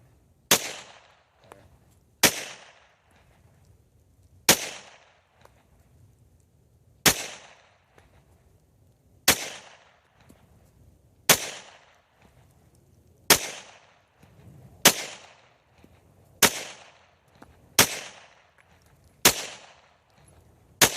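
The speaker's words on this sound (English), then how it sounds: "I'm going to put a couple shots here." A handgun fitted with a Streamlight TLR 2HL weapon light fires at a paper target about 10 feet away, twelve sharp loud shots at steady intervals of roughly two seconds, each with a short ringing decay.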